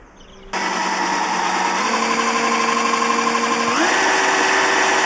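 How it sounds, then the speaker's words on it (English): A power drill drilling a hole into a Transit van whirs steadily after a short pause, its motor pitch stepping up partway through as it bites in, loud and close. "drilling a huge hole into the van"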